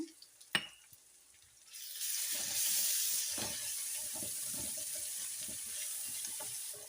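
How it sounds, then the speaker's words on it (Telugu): Ginger garlic paste hits hot oil with browned onions while frying prawns, erupting into a loud, steady sizzle after a sharp clatter, with a dense hiss continuing close and unbroken to the end. "ఇప్పుడు ఇందులోకి అల్లం వెల్లుల్లి పేస్ట్ అయితే వేసుకుంటున్నానండి"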